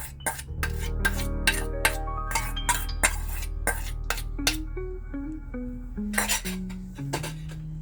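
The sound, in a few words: beating eggs in a bowl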